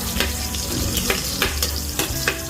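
Garlic sautéing in a hot pan, a continuous oily sizzle broken by periodic scraping stirs of a utensil against the pan, close and fairly loud with no talking.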